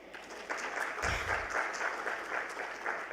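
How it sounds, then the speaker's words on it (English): Audience applause at a youth forum event in India rolls on steadily for a few seconds, a moderately dense crowd clapping with a brief low thump near the start. "Let's give a huge round of applause again."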